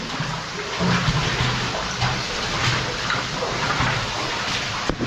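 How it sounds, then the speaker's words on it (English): Continuous rushing of running water inside an abandoned underground mine in Derbyshire, close and fairly loud, with a faint low hum and a brief knock near the end. "I can hear quite a lot of water running."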